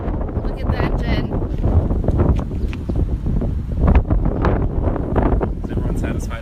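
Strong wind buffets the microphone outdoors beside a Lexus LC500, a loud, gusty rumble that fills the whole stretch with uneven surges.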